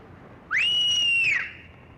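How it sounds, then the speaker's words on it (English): One loud, piercing finger whistle rises sharply, holds a steady shrill tone for about a second, then slides down and fades, heard alone and close. "Have you ever wondered how to do one of those ear-shattering whistles?"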